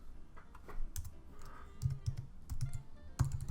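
Typing on a computer keyboard while renaming a field in a mobile login screen design, scattered close key clicks that come in small clusters, with a few louder taps and no talk.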